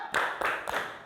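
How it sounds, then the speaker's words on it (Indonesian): Primary-school children in a sixth-grade classroom do a rhythmic salute clap together, three sharp bursts of group clapping in quick succession, close and fairly loud. "tepuk salut untuk kelompok 3 dulu. Tepuk salut."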